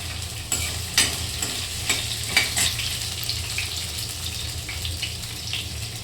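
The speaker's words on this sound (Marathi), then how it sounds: "तर आता आपण भेंडी टाकूयात कारण आपले तेल टाकलेलं तर झालेली आहे" Okra pieces go into hot oil in a pan for a home vegetable dish, producing a steady quiet sizzle broken by a few sharp clinks and scrapes of stirring, close up and with nobody talking.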